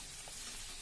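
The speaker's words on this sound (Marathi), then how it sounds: "पापड तळण्यासाठी मी तेल गरम करायला ठेवलं आहे" Sago papad frying in hot oil makes a soft, steady sizzling hiss, faint and continuous throughout, with no talking.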